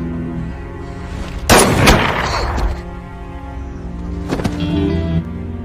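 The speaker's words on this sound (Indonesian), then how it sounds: "akhirnya John langsung menembak Hayden" Two heavy gunshot blasts in an action film, the first a loud booming crack with a ringing tail and the second a sharper report a few seconds later, over a constant low soundtrack bed.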